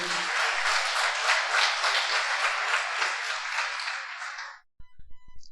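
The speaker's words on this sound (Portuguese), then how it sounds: "dê um aplauso forte ao Senhor" A church congregation breaks into loud, dense applause during a service, sustained for several seconds before cutting off abruptly, followed by a few faint thumps.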